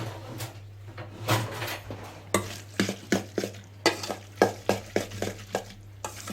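Sea bream and langoustine tartare seasoned with ketchup, salt and pepper is mixed in a bowl, giving a quick run of wet, rhythmic stirring clicks and scrapes, close and moderately loud.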